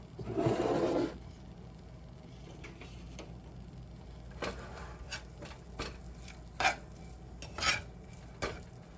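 Spices for samosa chaat are stirred in a pan, starting with a short burst of sizzle, then scattered spoon taps and scrapes against the metal at irregular intervals, close and fairly quiet.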